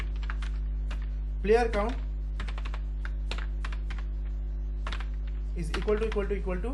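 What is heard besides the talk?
typing code on a computer keyboard in VS Code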